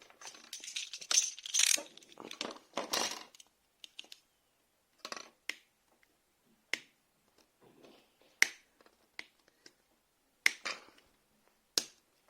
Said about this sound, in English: we get our X knife and cut it.